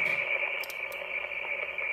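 Amateur radio receiver noise with the QRM eliminator switched off: steady hiss and buzzing interference, with a strong sustained tone and brief bursts, continuous throughout and no voices.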